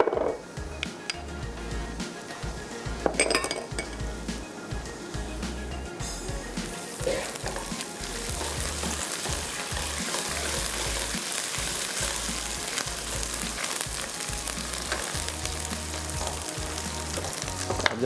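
Steady frying sizzle of garlic-ginger paste and green chili paste in a pan, loud and continuous, with a few clinks and stirring scrapes early on.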